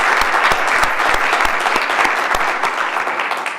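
Warm, close applause from those gathered at a Bruce County council inaugural meeting, honoring the retiring clerk after 28 years, with a steady mass of claps and a few sharp individual hands standing out.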